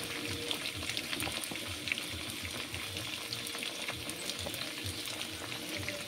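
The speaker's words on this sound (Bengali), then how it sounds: "উলকপি আলুটা আমি প্রথমে সাঁতলে নিয়েছি, তারপরে এই যে অল্প একটু মশলা দিয়ে ভালোভাবে দেখো সাঁতলে নিচ্ছি" Cauliflower and potato sautéing in a pan with ginger, cumin, green chillies and a little spice, a soft, steady sizzle with faint scraping, fairly quiet and continuous.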